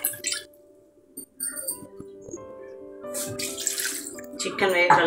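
Water is poured into a pot of country chicken curry in a home kitchen, an intermittent splashing trickle with light clinks and a voice speaking quietly in the background.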